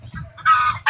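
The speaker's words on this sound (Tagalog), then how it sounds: "Magagaling na manok ito." Pet chickens clucking up close: a few short, sharp clucks and squawks in quick succession, loud and clear with no other sounds.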